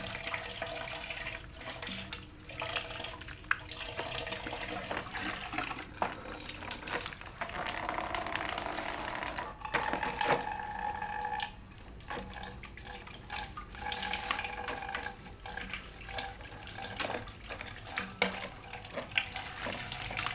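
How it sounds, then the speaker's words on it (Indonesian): Water runs steadily from a spray while a brush scrubs algae off the corners of an emptied channa aquarium tank. The gushing and splashing stays fairly quiet and continuous, with brief scraping and shifting splashes, and no one talks. "dengan sambil air dipancur kita bersihkan lumut-lumutnya menggunakan sikat ini juga untuk yang pojok-pojok"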